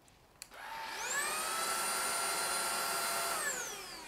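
A JDL Typhoon cordless vacuum cleaner switches on after a click, and its motorized spinning brush head rises to a steady, close, high-pitched whine that holds and then begins to wind down near the end.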